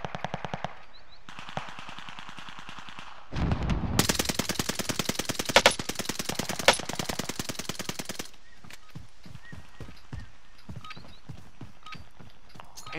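Rapid automatic gunfire in Call of Duty: Modern Warfare, a dense burst of fast, evenly spaced shots lasting several seconds, then scattered single reports and mechanical clicks at a lower level.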